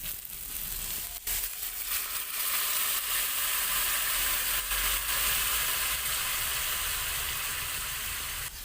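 Masala sizzles loudly in a pan while jackfruit curry cooks, a continuous close frying hiss broken by the scrape and clatter of stirring, with no voices.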